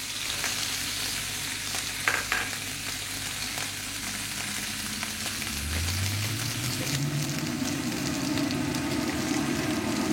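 Beef steaks searing in raw butter in a pan, giving a loud continuous sizzle and crackle close by, with some scraping and stirring noises.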